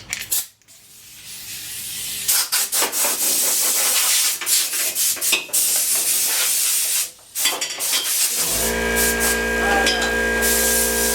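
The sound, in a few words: air blowing dust out of a towel rack motor assembly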